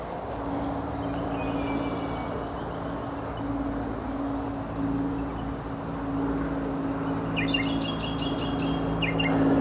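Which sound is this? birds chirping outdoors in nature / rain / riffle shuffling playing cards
birds chirping outdoors in nature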